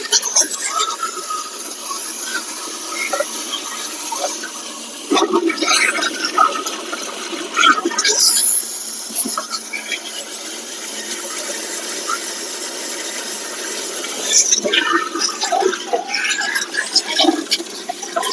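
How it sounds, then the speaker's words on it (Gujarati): A pressure water jet sprays hard into the turbo and silencer of a John Deere 5210 tractor to flush out black carbon, a continuous loud hissing rush with splashing surges and brief shifts in intensity. "આ રીતે પ્રેશરથી ફુવારો લગાવીએ એટલે તમે જોઈ શકો છો કે કેટલો કાળો કાર્બન નીકળે છે"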